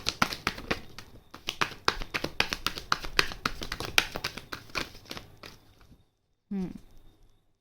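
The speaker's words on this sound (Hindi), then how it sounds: "लास्ट शफल है" Tarot cards being shuffled by hand in a rapid run of crisp, close taps and riffles lasting several seconds. A short pause follows, then a brief voice.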